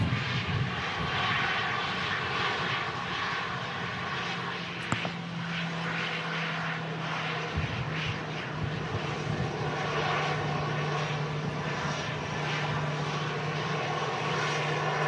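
An EasyJet airliner at Manchester Airport in strong crosswinds gives a sustained engine roar with a steady low hum, moderately loud and unbroken, with no talk.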